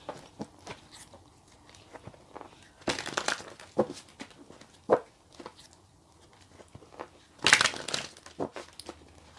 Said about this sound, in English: Just giving these another shuffle because I had to put cards back in the deck.